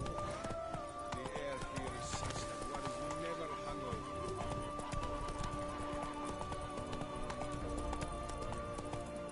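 A horse gallops in The Witcher 3, with rapid, steady hoofbeat clip-clops running throughout amid game ambience, and a voice speaking over it.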